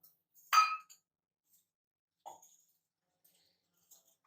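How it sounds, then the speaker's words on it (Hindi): A frying pan is set down on a gas stove, giving one sharp metallic clink, then a softer knock a couple of seconds later, with faint ticks in an otherwise quiet room. "सबसे पहले हम गैस जलाएंगे और उस पर हम फ्राई पैन रख देंगे"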